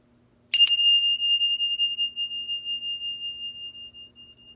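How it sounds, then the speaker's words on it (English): A single strike of Tingsha bells closes a meditation practice with a bright, high metallic ting. The tone is clear and close, then rings on and fades slowly over several seconds in near silence. "I'll ring the Tingsha bells for you, which signifies the end of this practice"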